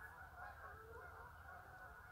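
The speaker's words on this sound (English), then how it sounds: "The geese are going." A flock of geese honks continuously in Delamere Forest, a busy chorus of overlapping calls heard at moderate distance in the open woodland air.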